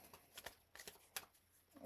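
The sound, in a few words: shuffling a new deck of playing cards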